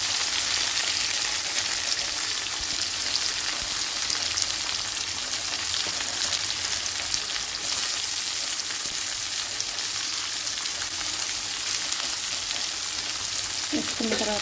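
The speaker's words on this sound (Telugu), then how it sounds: "దాని తర్వాత ఇప్పుడు వచ్చేసి ఉల్లిగడ్డలు అనేది ఇలా వేసేసుకోవాలి." Chopped onions sizzle loudly in hot oil with cumin and mustard seeds in a pan, a steady dense hiss throughout with faint stirring, close up.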